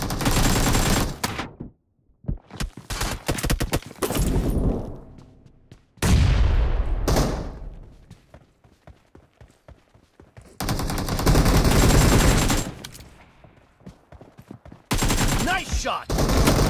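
Gunfire in a PUBG team deathmatch, with loud bursts of automatic rifle fire and single cracking shots that come in clusters separated by short gaps and decaying echoes, close and forceful.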